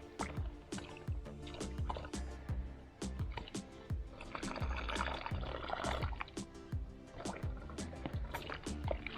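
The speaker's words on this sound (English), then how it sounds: "I'm going to fill this bladder up just from a water bottle through the neck." Water poured from a bottle through the neck of a 3-litre hydration pack bladder, a busy run of gurgles, splashes and plastic crinkles with a fuller, rushing stretch midway, close and fairly loud.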